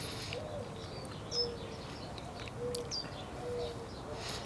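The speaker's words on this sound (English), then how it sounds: "There's lots of nice birds here." Several birds call softly in a quiet backyard in Tucson, Arizona, with brief chirps and a few cooing or whistled notes spread over a steady low background hum.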